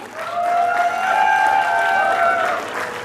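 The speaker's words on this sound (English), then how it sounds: "All of you please clap." Audience applause and clapping at the Resonance 2025 prize distribution and closing ceremony, a steady roomful of hands lasting about three seconds with a sustained tonal sound running over it.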